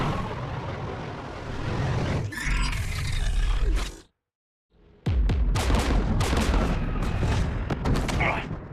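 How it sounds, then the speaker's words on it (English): Anti-aircraft gun batteries beside a jamming tower in the Mass Effect 3 video game boom and roar in loud, dense bursts, briefly dropping to near silence before the barrage resumes, with voices mixed in. "The Geth installed anti-aircraft guns beside the jamming tower"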